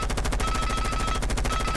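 Steady, rapid automatic gunfire from Jackal's low-recoil gun in a shooter video game, a continuous evenly spaced stream of close, loud shots with no pauses.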